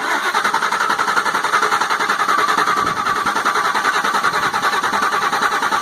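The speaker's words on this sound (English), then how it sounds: "we'll go ahead and turn the key on and we'll crank it over and see if it's going to start" A 2004 Ford F150 crew cab 4x4 with the 5.4 3V V8, after repair with oil in the intake, cranking and catching; a loud, steady, rhythmic engine roar close by, with no talk.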